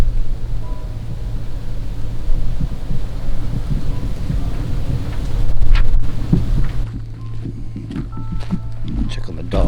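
A severe thunderstorm with a tornado nearby, with low rumbling thunder and gusting wind buffeting the microphone, a louder thunderous swell midway, then quieter wind with scattered knocks.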